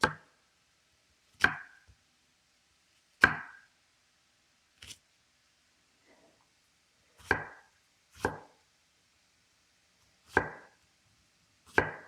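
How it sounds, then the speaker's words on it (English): Knife chopping a regular yellow onion on a board: sharp, isolated chops spaced about one to two seconds apart, crisp and close, with quiet gaps between and no talking. "we're going to get ahead and get this chopped up while that sausage starts up"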